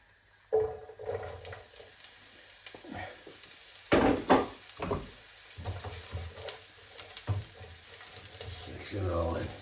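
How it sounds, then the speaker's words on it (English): Onion hits a hot pan with cumin seeds and begins to sauté, a soft crackling sizzle that settles into steady frying, broken by clattering stirs and scrapes and a few quiet words. "so I think I'll add my onion now."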